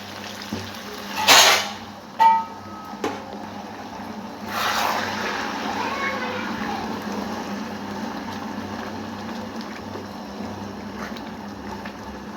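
Water poured into a simmering potato and liver curry makes a few sharp splashes and a hiss, then settles into a steady low bubbling simmer, heard up close.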